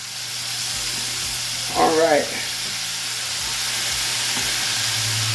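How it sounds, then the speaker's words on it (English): Buffalo chicken fries in hot oil with a loud, continuous broadband sizzle that fills the whole stretch, with a brief voice rising over it near the middle. "So I'm going to fry this 2 times"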